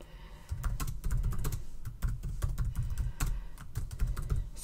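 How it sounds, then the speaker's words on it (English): Rapid typing on a computer keyboard while entering a course title, a dense, close stream of clicking keystrokes with no speech. "So I'm just going to type that in."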